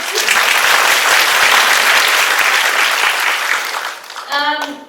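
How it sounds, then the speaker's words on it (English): Audience at a design talk applauding loudly and steadily for about four seconds, dense clapping that tapers off as a voice begins speaking at the end. "Can I have everyone give them applause?"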